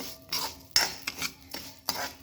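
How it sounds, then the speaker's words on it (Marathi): A spoon scrapes and clinks against a pan as moth bean dal roasts in a little oil, several sharp metallic stirring strokes in an uneven rhythm, close and clear without speech. "तेलामध्ये थोडीशी अशी मटकी भाजून घ्यायची आहे आपल्याला"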